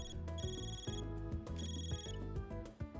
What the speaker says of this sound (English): That stupid phone